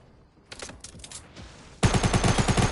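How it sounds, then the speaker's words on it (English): Gunfire in the Fortnite video game: a few scattered shots early on, then a loud sustained burst of rapid automatic fire close up. "He's shooting at you!"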